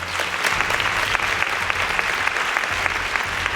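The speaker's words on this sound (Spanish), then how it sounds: "Os pido un aplauso para ella." A studio audience applauds a newly introduced guest on a late-night talk program, a dense, steady burst of clapping from a small crowd that continues without a break.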